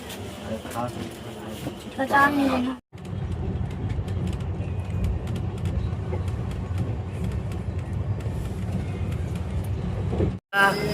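A passenger train stands at platform 1 of Kharagpur station, bound for Puri, with a steady low rumble and clatter of the carriages and platform bustle, while voices talk over it near and loud throughout.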